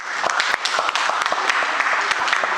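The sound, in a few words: audience applause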